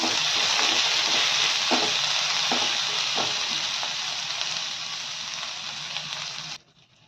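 Ginger and green chilli paste fries in a pan with a loud, continuous sizzle and a few soft stirring knocks, fading slightly before cutting off near the end.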